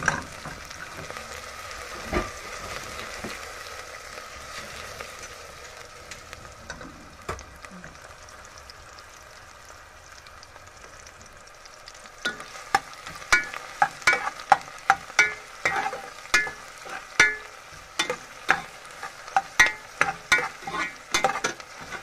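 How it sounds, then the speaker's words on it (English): Onion, garlic and crushed thyme sauté in a pan with a steady soft sizzle, followed by a run of regular scraping and clacking strokes as a utensil stirs the pan. "Sauteing the onion, the garlic, and some crushed thyme."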